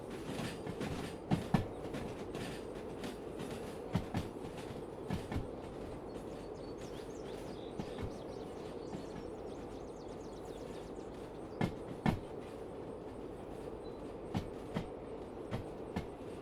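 A locomotive runs steadily in the Derail Valley train game, a continuous low rumble with rolling rail noise and scattered sharp clicks and clanks of wheels over track joints, fairly distant and without talk.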